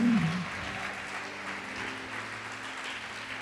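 A church congregation applauds during a sermon, a steady wash of clapping at moderate level that continues throughout the short stretch, without speech.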